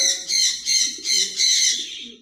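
Several bright, nasal zebra finch calls from a pair repeat in quick bursts, close and loud, with short pauses between them.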